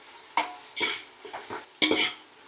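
A spoon stirs browning onions in a pan for chicken gravy, several close scraping strokes in an uneven rhythm over a faint sizzle.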